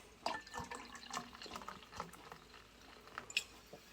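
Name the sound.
pouring Topo Chico mineral water into a drink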